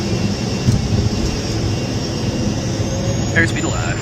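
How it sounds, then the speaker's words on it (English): Challenger business jet engines spooled up for takeoff, a steady loud roar with a high whine heard from the cockpit, with brief cockpit voices and clicks over it. "Engines are spooled up."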